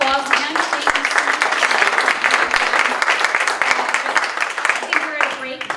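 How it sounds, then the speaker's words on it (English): Loud, close applause from attendees at a food recovery and donation summit breakout session, dense rapid clapping filling the whole stretch with no pauses. "Let's give them a round of applause again."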